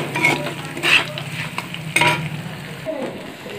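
Peanuts fry in a pan for chirer pulao, sizzling and crackling close up while a spoon scrapes and stirs through them in several brisk strokes.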